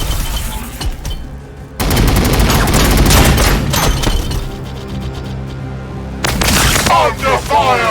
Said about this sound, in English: Under fire! Taking fire!